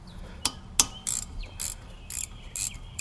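Ratchet wrench loosening bolts on a Polaris RZR 800 radiator part, several separate ratcheting bursts spaced about half a second apart, close and fairly loud with quiet gaps between.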